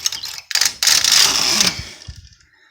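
The lace carriage of a Brother 8-button knitting machine slides across the needle bed in a few loud, close rasping sweeps with clicks between them, then falls quiet.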